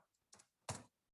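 A few quiet computer keyboard keystrokes as ipconfig is typed: two soft clicks, then a sharper louder one, close and isolated with no voices.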